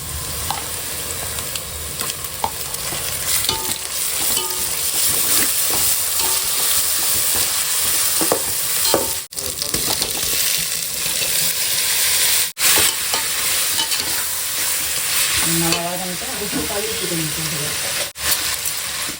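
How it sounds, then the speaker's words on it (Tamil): Ginger garlic paste frying and being stirred in a pan, a loud steady sizzle with scraping stirs throughout, close up, with a person talking at times. "இஞ்சி பூண்டு பேஸ்ட்டு போட்டுக்கிறேன்."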